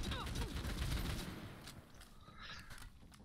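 Rapid assault rifle fire from Borderlands 3, sprayed in close bursts like a submachine gun, loud at first and easing, with game effects mixed in.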